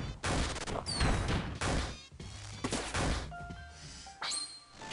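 Gunfire in the video game Lisa: several sharp, loud, crackling shot bursts in quick succession, with brief electronic game tones ringing between them.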